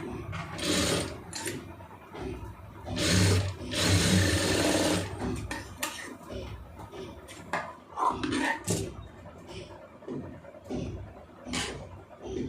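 A sewing machine stitches the armhole of a blouse, its needle mechanism whirring in short uneven bursts with pauses and light mechanical clicks between runs, close and moderately quiet.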